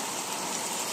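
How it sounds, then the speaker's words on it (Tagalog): Heavy rain pours down in a steady, dense hiss with no breaks, loud and close, with no voices over it. "Ayan, lakas ng ulan."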